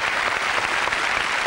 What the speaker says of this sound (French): On applaudit Jérôme, qui est barbier